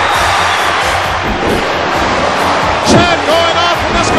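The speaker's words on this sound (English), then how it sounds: "Chad going off from this capacity crowd, USA." A capacity crowd at a wrestling grudge match roars and cheers continuously, a dense loud wash of voices that swells slightly near the end, with a commentator talking over it.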